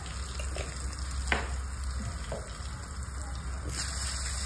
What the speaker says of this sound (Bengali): সাইডটা তেল গরম হয়ে গেছে বুঝলে, দিয়ে দাও দিয়ে দাও। আলু দিয়ে দিচ্ছি।